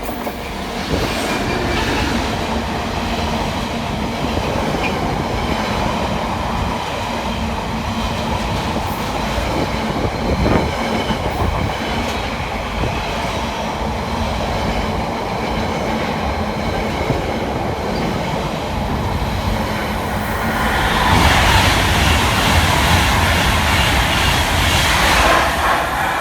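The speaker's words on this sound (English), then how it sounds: "The train now approaching platform 3 does not stop here." A train rumbles steadily through a station without stopping, a continuous loud roar of wheels and rail noise that swells and brightens near the end as it passes close to the platform at Penkridge.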